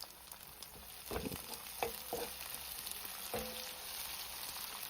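Chopped tomatoes sizzle and fry in a pan for a veg biryani, with a few spoon strokes scraping and stirring through a steady hiss, close and moderately loud, no voices.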